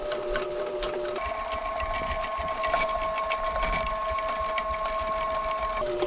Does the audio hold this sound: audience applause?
no